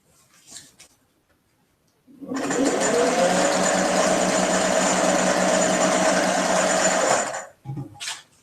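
A sewing machine stitching quilt blocks runs in one steady, loud, continuous whir for about five seconds, with brief quiet handling sounds before and after.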